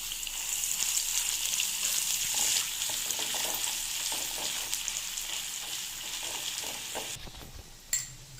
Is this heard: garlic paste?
yes